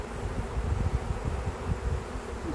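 A swarm of honey bees buzzes steadily and close, a dense low drone with fluttering pulses that fills the clip without any voices.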